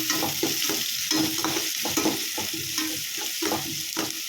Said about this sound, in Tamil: வெங்காயம் வதங்கிட்டு இருக்கும் போதே 3 காஞ்ச மிளகா அதையும் சேர்த்து நம்ம கிளறி விட்டுக்கலாம்